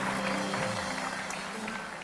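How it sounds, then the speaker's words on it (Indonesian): A television talk show's studio audience gives a short burst of applause for a guest while voices carry on over the clapping. "Tepuk tangan buat Bianca Lisa"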